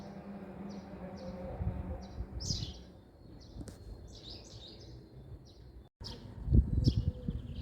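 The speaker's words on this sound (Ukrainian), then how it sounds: "Послухайте, як пташки тут щебечуть" Small birds chirp and tweet in quick, scattered bursts over a quiet spring outdoor background, with an owl calling and a few soft rustles and thumps nearby.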